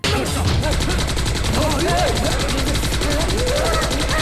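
Rapid, sustained bursts of gunfire from the film Rashtra Kavach Om over a dense, loud action soundtrack with music and effects, continuous throughout.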